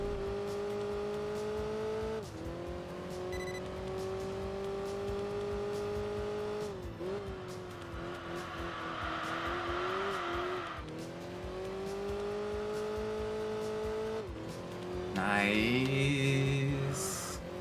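A race car in Enthusia Professional Racing roars through laps, its engine note climbing and dropping with gear changes, with tyre squeal and skidding bursts near the end, all without talking.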